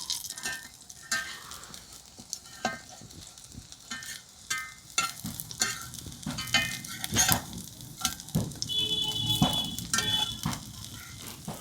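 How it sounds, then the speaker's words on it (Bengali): Semolina and potato sandwich pieces sizzle and crackle while frying until reddish. Scattered sharp pops and occasional utensil taps stand out close by over a continuous frying hiss, with no voices. "এগুলো কিন্তু এইভাবে লাল লাল করে ভেজে নিচ্ছে।"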